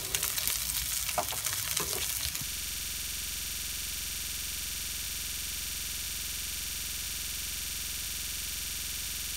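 Samgyupsal pork belly and onions fry in a pan, a brief busy sizzle with stirring scrapes, then a steady, even hiss of frying.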